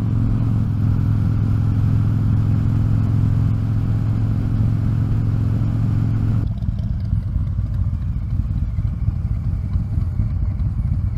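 A motorcycle out on a long group ride gives a steady, loud engine drone mixed with heavy wind rush. The noise runs unbroken throughout and becomes slightly thinner partway through.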